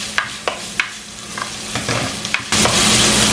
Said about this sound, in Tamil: மிக்ஸ் பண்ணி போட்டு ஒரு 3 நிமிஷம் இதை வதங்க விடுவோம்.